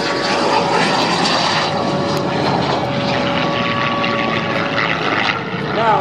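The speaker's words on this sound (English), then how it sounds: "as our airplanes continue to strafe" Loud droning propeller warplane engines roar continuously overhead during a strafing pass in a Pearl Harbor attack reenactment at the 2013 Oshkosh, Wisconsin airshow, a sustained close flyover with no gaps.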